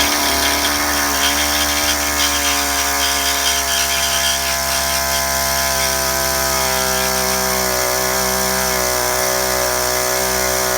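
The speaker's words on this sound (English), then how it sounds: "Now she's going to take the reciprocating saw and just breeze through the end." A reciprocating saw cuts through the exhaust pipe of a 2010-2015 Camaro 3.6L V6 during a muffler install, buzzing loud and continuous with a harsh metallic rasp and shifting motor tones throughout.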